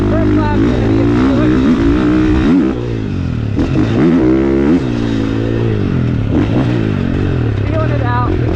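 A 2022 450cc dirt bike, a KTM 450SX-F or Honda CRF450R, ridden on a motocross track: close, loud engine revs rising and falling through gear changes, with other bikes nearby and the rider talking over it.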